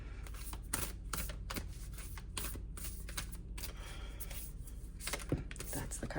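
Tarot cards are shuffled close to the microphone in quick bursts of crisp riffling and flicking, separated by brief pauses, fairly quiet against a soft background hum.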